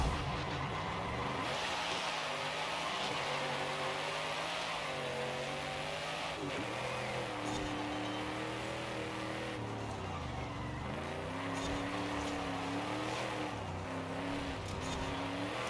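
Sports car with over 1,000 horsepower on a power build in Forza Horizon 5, driven with manual clutch; loud continuous engine roar rising and falling through revs and gear changes, close and steady throughout.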